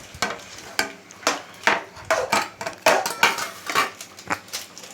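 Chicken being stirred into ground tomato mix on a plate, with repeated close clinks and scrapes of a utensil against the dish in an irregular rhythm and no talking.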